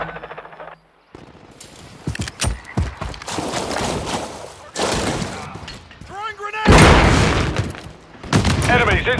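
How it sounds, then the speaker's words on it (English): Grenade blasts and rapid gunfire in Call of Duty Modern Warfare 3, loud bursts and booms repeating through the clip with a game voice calling out over the battle. "Throwing grenade!"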